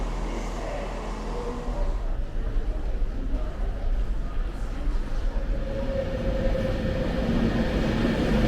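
Interior of an Avanti West Coast passenger train bound for London Euston, a steady low rumble and rattle of the carriage running along the rails, continuous and fairly loud throughout with no talk.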